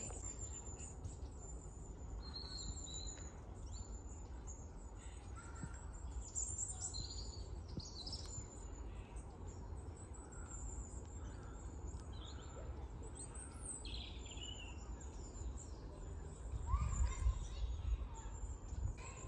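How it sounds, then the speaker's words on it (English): Long-tailed tits give thin, high calls at an allotment plot, faint and scattered over a low outdoor rumble, with occasional voices in the background. "So it's coming up as a long-tailed tit."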